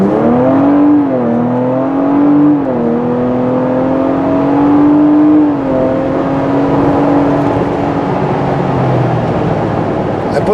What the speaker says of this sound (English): I'm going to turn the exhaust up to maximum so you can hear what it sounds like.